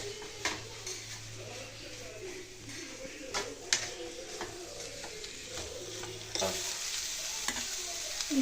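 A curry mixture with tamarind added is stirred and fried in a pan, making a continuous sizzle broken by repeated spoon scrapes and knocks, with faint bird calls somewhere in the background.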